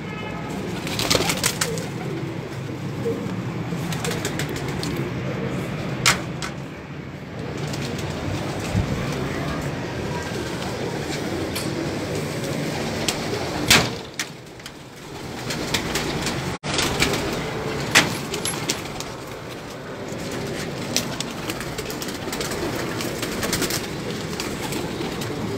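Pigeons coo on a rooftop while a low, continuous rumble runs beneath them, with occasional sharper clatters and someone talking at moments.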